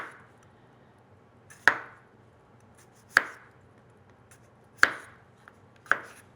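A knife slices through firm potatoes on a board: four or five sharp, separate chops spaced a second or more apart, close and fairly quiet.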